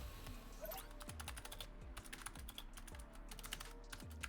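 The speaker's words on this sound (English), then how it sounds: "excuse my typing" Rapid, steady clicking of a computer keyboard as someone types during a live esports match broadcast, faint and continuous with no talking.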